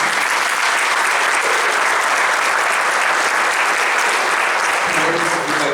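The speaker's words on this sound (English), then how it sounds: "Let's give our candidates a round of applause." Loud, dense applause from the audience at a city council candidate forum in Portsmouth, Virginia, a continuous roar of many hands clapping that holds steady for several seconds.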